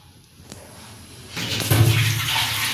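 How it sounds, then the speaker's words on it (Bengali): Water is poured into a pot to make masala tea. A quiet start gives way to a steady, close splashing rush that holds to the end. "মশলা চায়ের জন্যে কিছুটা জল চাপিয়ে দিলাম"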